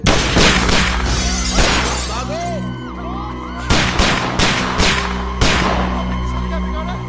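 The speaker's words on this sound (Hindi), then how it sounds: "लगता है कोई गोली चला रहा है हम पे।" Sharp, loud bangs ring out in bursts in an action film scene, several sudden cracks spaced a second or so apart, like gunfire echoing nearby.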